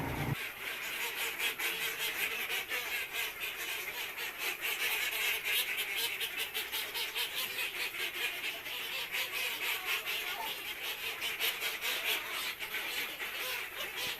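A flock of ducks newly penned after coming from pasture, calling nonstop in a dense chorus of honking quacks, loud and near throughout.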